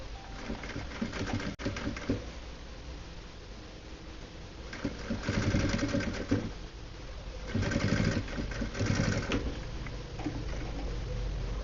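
A sewing machine runs stitches along bias binding on the edge of a fabric pouch, a steady mechanical whir that swells into louder bursts of stitching over continuous low room noise.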